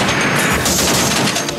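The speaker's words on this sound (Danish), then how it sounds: "Så snart Absalon er tæt nok på piraterne, affyrer skytterne varselsskud for at få dem til at opgive kampen." Warning shots fired from the Danish navy ship Absalon at pirates, a loud sustained burst of rapid gunfire filling the whole stretch with dense, crackling reports and no talk.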